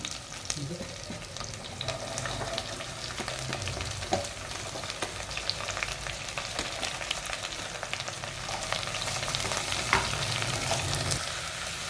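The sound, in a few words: onions frying in oil in a pan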